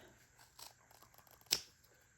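Scissors cut through a beaded tassel cord in one crisp, close snip, preceded by faint handling rustle in an otherwise quiet room.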